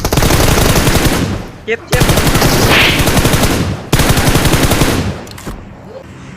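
Loud, close bursts of automatic gunfire in the video game PUBG ring out in long rapid strings with two brief pauses, then trail off. A player speaks briefly over the shooting.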